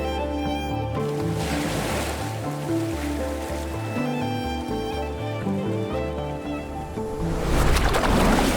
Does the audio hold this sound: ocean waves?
yes